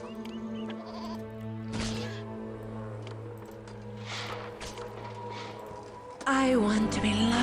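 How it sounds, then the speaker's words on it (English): Sheep in the video game Poseidon: Master of Atlantis give several bleats over game music. A loud, close bleat comes near the end, and a voice talks over parts of the clip. "Sheep!"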